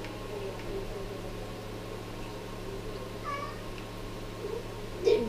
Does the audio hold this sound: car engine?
no